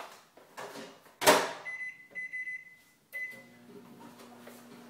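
A kitchen microwave oven heating pork tenderloin starts up with a clunk of its door, then beeps and hums at low level in a quiet room.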